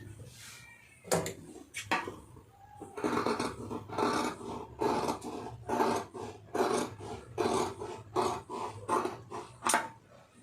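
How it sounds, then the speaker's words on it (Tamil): Scissors cut through blouse fabric in a run of rhythmic, rasping snips, close and soft, each stroke a short crisp crunch repeating steadily after a few separate opening cuts. "இப்போ நம்ம அதை அப்படியே போட்டு கட் பண்ணிடலாம்"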